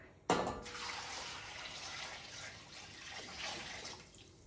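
Water pours from a tap into a pot holding sweet potatoes, oil and salt, starting with a sudden splash and then running as a steady close gush that swells slightly near the end.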